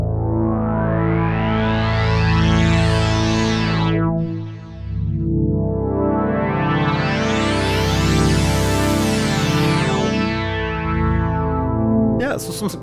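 Polyphonic synth from the older Logic Pro ESP instrument plays loud, sustained chords with bright, sweeping filter swells and a thick ensemble shimmer, pausing briefly near the middle before a second long swell.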